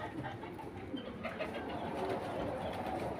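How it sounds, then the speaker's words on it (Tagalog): Pigeons and doves at a breeding loft in a Sharjah villa resort coo softly amid a steady, noisy outdoor background, with low murmuring calls running throughout. "Lalaki ng mga kalapati,"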